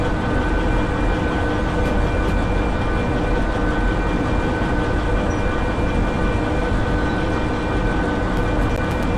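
Heavy freight train in Derail Valley, three engines hauling 24 cars of about 1061 tons on a scenic route, a constant loud rumbling drone with faint rhythmic clicks of wheels over rail joints, steady and unbroken.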